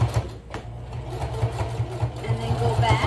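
A sewing machine stitches across a fabric shopping bag with a steady, rapid mechanical whir and needle chatter, running close and continuous throughout.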